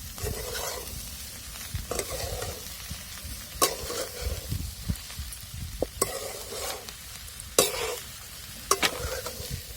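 Spice masala sautés with onion in a pan for potato chutney, a continuous close sizzle with repeated spatula scrapes and stirring clatters at irregular intervals.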